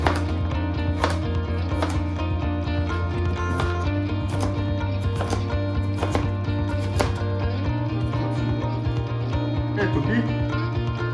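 Knife cuts a broccoli stem into thin slices on a board, crisp irregular chops repeating every second or so, under steady background music.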